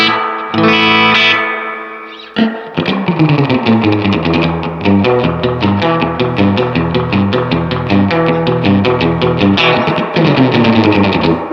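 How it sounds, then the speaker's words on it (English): A Roland RE-201 Space Echo's spring reverb set halfway, with bass and treble turned down, washes over played notes and chords, trailing a dense, ringing tail under loud, sustained playing. "here's the reverb halfway up, with our bass and treble controls about half, all the way down"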